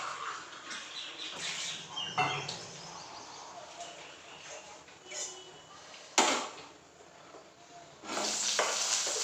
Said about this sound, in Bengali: পটলগুলো একটু ভালো করে ভেজে নেবো।